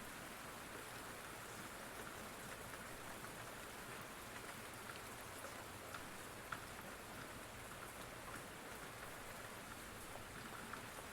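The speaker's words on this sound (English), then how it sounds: "allowing yourself to take in this nourishing rain" Steady rain falls in a soft, continuous hiss, with scattered droplets patting a surface, faint and even throughout with no voices.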